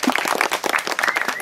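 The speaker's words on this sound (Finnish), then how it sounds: "Otetaan heille aplodit." Short burst of dense, hearty applause from an audience at a Finnish chairpersons' summer days event, close and loud for about a second and a half.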